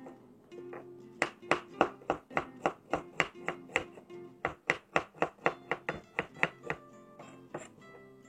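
A pestle pounds shallots and spices in a mortar for Javanese terung garang asem, giving about two dozen sharp, hollow thuds in a steady rhythm, close and loud, with short pauses between runs.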